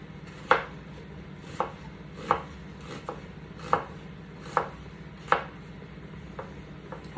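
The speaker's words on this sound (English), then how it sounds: "we're going to cut the onion across ways and then down the middle" Knife chopping an onion on a board, about nine distinct, evenly spaced thuds over steady faint background hum, close and clear with no talking.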